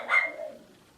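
A big guard dog gives a single short bark in the background, brief and moderately faint, with the sound fading quickly afterward.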